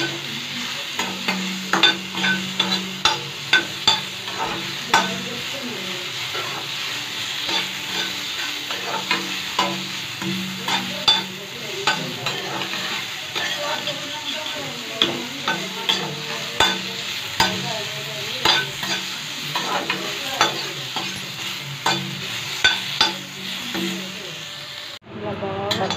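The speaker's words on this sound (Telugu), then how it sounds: "బాగా ఫ్రై అవ్వాలన్నమాట." Ridge gourd peels frying in a pan for chutney, a continuous sizzle with repeated close scraping and stirring knocks, and a voice talking over parts of it.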